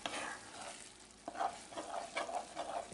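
Fried corn sizzles steadily in a pan while a spoon stirs it, giving a few sharp scraping clacks and light popping over a continuous hiss, close and moderately loud.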